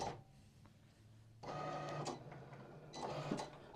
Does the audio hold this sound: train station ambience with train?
no